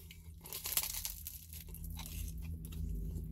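A bite into crunchy pizza crust, a close, crisp crackling crunch followed by a few brief chewing crunches, heard alone without talk.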